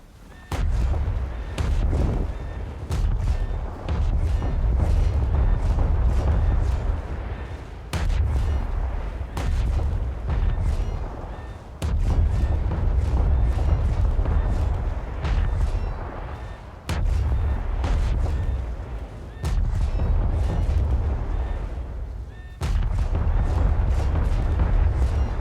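Naval guns blasting a Scharnhorst battleship in War Thunder: a relentless run of heavy booming salvos, loud and close, packed with rumbling low end and repeated sharp blasts across the whole stretch.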